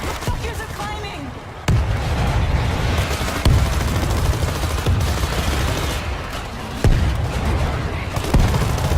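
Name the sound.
grenade thrown and exploding in video game World War Z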